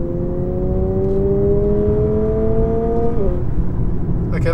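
A 2022 Lexus UX250h hybrid SUV's steady engine drone holds a rising synthetic pitch at about 4,000 rpm, then drops sharply like a simulated gear change, with the tone continuing lower afterward.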